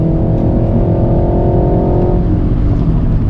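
A Renault Mégane 4 RS Châssis Cup engine drones loud and steady from inside the cabin, a deep rumble with a slight shift in pitch near the end.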